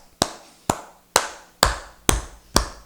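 Six sharp, evenly spaced hand claps ring out one at a time from a congregation clapping in worship, each crisp strike decaying quickly before the next.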